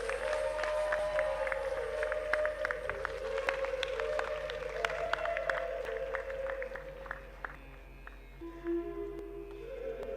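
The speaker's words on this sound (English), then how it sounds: "Give her a huge round of applause" Audience applause at a graduation day ceremony, steady scattered clapping from a crowd that holds throughout, with a tonal hum running underneath.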